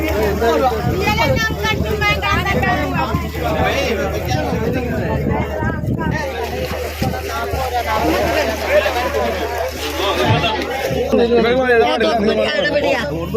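A busy crowd at a beach fish auction overlaps and calls out at once, loud and close, with people shouting bids over the general babble.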